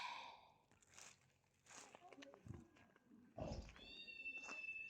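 A cat meows several times in an outdoor spot where a stray is being fed, with short brief cries spread through the stretch alongside soft rustling and crinkling, fairly close and moderately loud, no talk over it.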